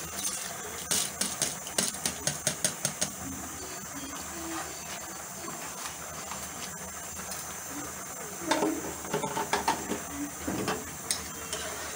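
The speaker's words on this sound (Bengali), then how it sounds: "এখন আমি দিয়ে দিব সেই আমার এক পট চাল আমি দিয়ে দিচ্ছি" Dry rice tipped from a measuring pot into a cooking pot, heard as bursts of sharp rattling patter that come and go over a steady background hiss.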